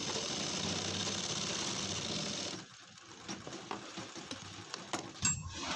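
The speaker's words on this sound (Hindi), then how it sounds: "तो उसमें पैर डालने में मोरी ना उधड़े बॉटम, इस चक्कर में हमें यहाँ पर डबल सिलाई लगाना होती है।" A sewing machine runs steadily while double-stitching the hem of a pair of jeans, a loud continuous whirring hum that stops abruptly partway, followed by faint handling noises and a few small clicks.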